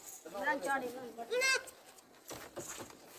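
Goats kept for Eid sacrifice on a farm in Pakistan bleat in several loud, wavering calls close by, two or three in quick succession, followed by someone talking.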